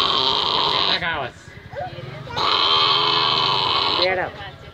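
A woman imitates a sheep with two long, loud, wavering bleats close by, broken by a short quieter gap.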